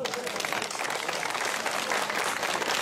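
Audience applause at a village celebration with a live folk band present: a dense, steady burst of clapping from a crowd, loud and sustained throughout the short stretch, with faint voices mixed in.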